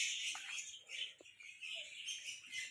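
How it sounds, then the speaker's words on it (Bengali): Several birds chirp at an ashram, faint and high. The light, overlapping tweets come and go irregularly at a distance. "দেখুন বিভিন্ন রকমের পাখির কিচকিচগুলো এখানে দেখতে পাওয়া যায়।"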